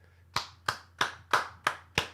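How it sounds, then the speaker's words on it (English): Six evenly spaced hand claps, crisp and close, steady rhythm about three per second, alone without speech. "I'm going to give you guys the applause for handling your biz."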